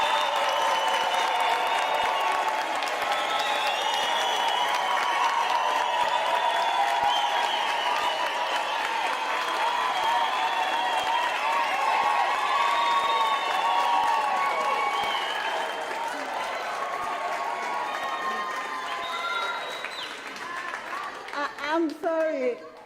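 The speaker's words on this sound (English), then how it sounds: "Use it as best as you can to clap for them and jubilate" Graduates at a university ceremony are greeted by a crowd clapping and cheering, a long dense roar of applause with voices whooping and calling over it, tapering slightly at the close.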